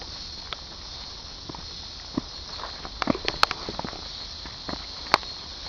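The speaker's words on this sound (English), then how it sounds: "These bugs can just shut up." Insects buzz in a steady, high, continuous drone outdoors near Goatman's Bridge, with a few scattered soft footsteps and rustles.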